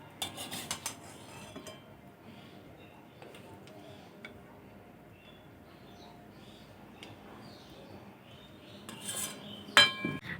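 Metal utensils scrape and clink against a plate and pot as zarda pulao, a sweet Bengali rice dish, is served, with sparse faint taps over a quiet room and a louder clatter near the end.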